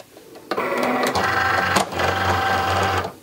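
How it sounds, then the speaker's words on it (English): A vinyl cutting machine takes in a loaded cutting mat, giving a steady mechanical whir and hum with a few clunks, close and fairly loud, running for about three seconds with no talking. "So now we'll go ahead and load our mat into the machine."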